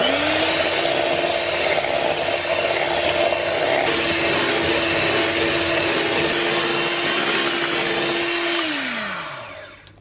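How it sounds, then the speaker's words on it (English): An electric whisk whips a cup of cream in a bowl until it starts to thicken. A loud, steady motor whir with a constant pitch runs for about nine seconds, then the pitch drops as the whisk winds down. "we're going to whisk it using electric whisk until it just starts to thicken"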